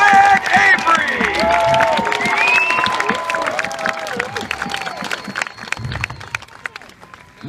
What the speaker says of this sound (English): a nice round of applause for the team of Duke and Josh the Wolfman Avery